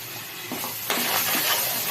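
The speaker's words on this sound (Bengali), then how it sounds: "একটু ভাজা হোক সুজিটা।" Semolina frying in a pan gives a soft, steady sizzle close by, with a brief scrape of stirring partway through and the hiss lifting slightly afterward.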